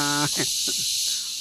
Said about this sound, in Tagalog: So ang naririnig nyo ngayon is mga kuliglig.